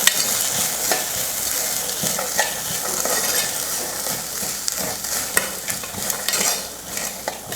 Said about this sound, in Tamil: கொஞ்சமாக கொத்தமல்லி இப்போ நல்லா கலந்து விட்டுடலாம்